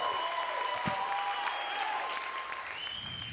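Steady applause from a TV show studio audience fills the whole stretch, a dense wash of clapping at moderate level with a faint tonal hum running beneath it.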